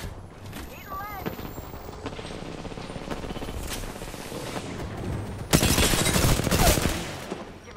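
Rapid bursts of gunfire from the video game Apex Legends rattle through the mix, with a louder volley near the end, while a voice talks over the action.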